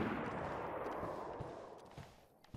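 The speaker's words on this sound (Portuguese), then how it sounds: "Tá tendo tiroteio." Gunfire in the survival video game DayZ, set in Livonia, crackles as a dense, steady din with a few sharper reports near the end, heard from a distance with no talk.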